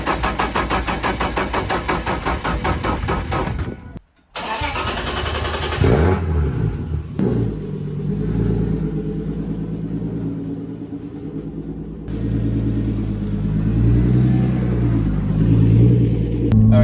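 A turbocharged BMW E30 with a T51R turbo mod cranks and fires up into a loud, rumbling idle, then the engine is blipped and revved several times, heard close and alone.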